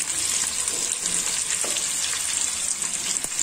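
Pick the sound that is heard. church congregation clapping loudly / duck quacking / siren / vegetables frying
vegetables frying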